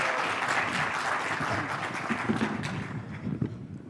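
An audience at an African youth AI forum applauds steadily as the CEO and founder of Sand Technologies walks to the podium, a dense, sustained clapping that carries through the whole stretch and thins slightly toward the end.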